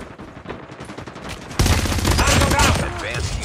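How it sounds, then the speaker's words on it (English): Rapid automatic gunfire from a deployed sentry gun in Call of Duty Mobile on the Nuketown map, starting abruptly after softer game noise and continuing as a dense, loud burst with mixed effects. "Sentry gun deployed."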